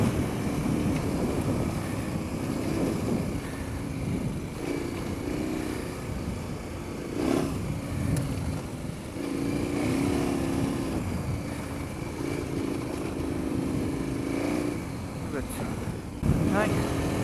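A KTM 1090 Adventure R motorcycle is ridden, its engine droning steadily up close beneath heavy wind buffeting, with a few brief surges in loudness.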